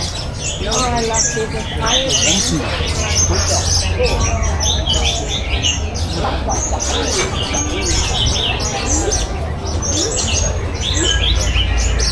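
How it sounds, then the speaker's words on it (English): Birds call throughout an aviary at Taronga Zoo in Sydney, with cooing, dove-like notes and chirps over a loud, constant background of crowd noise and voices. "We are in the aviary"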